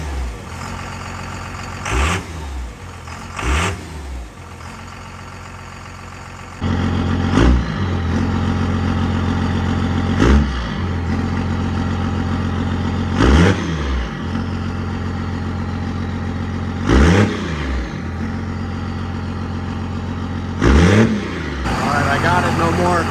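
A second-generation Dodge truck engine with an exhaust leak idles roughly, then gets blipped repeatedly, about six sharp revs spaced a few seconds apart, loud and close with a steady low rumble between.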